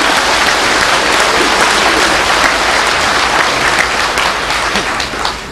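Audience applause at a Buddhist teaching in a conference centre: dense, loud clapping from a large crowd that holds steady and then starts to thin toward the end.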